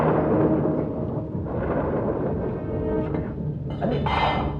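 Thunder rolls through a windy rainstorm, a deep sustained rumble with swelling surges and a sharper crack near the end, heard without any speech.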